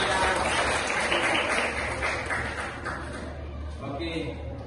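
Classroom applause from a group of students, steady clapping that fills the room and slowly tapers off, with a little laughter mixed in.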